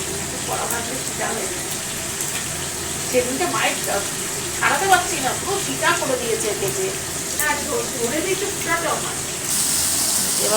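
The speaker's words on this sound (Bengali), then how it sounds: "শুকনো লঙ্কা ফোড়ন দিয়ে টমেটোটা ছাড়বো" Tomato dropped into hot oil with a dried red chilli tempering sizzles and crackles in bursts, moderately loud under a woman's speech in Bengali.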